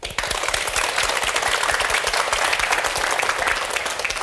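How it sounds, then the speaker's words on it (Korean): An audience at a lecture claps steadily, a dense, loud wash of applause that holds evenly for several seconds. "교수님의 강의를 박수로 맞이해 보겠습니다"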